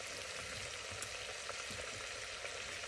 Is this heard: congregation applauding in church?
no